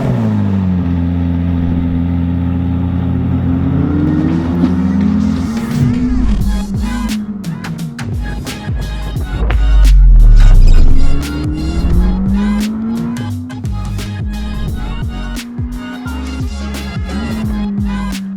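A McLaren 620R sports car driven in Oman, its engine revving up and down through gear changes with rising and falling pitch, loud and close, a sharp surge of acceleration midway and tire noise.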